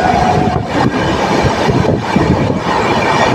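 A 12343 Darjeeling Mail express from Sealdah runs at speed past Bolpur, with a loud, steady rumble of wheels on rails and faint rhythmic clatter from inside a general coach.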